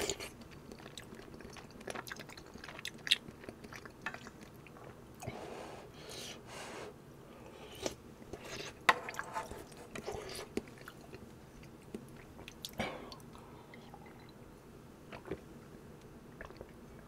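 Close, wet chewing and soft squishy bites of homemade Korean sujebi, hand-torn wheat dough soup with potato, recurring steadily throughout with occasional louder bites and no talk.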